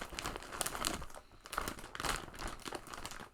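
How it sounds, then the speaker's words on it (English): A plastic bag holding a knitting project crinkles and rustles up close in several bursts of handling, with brief pauses between the crumpling sounds. "Sorry about the crinkling."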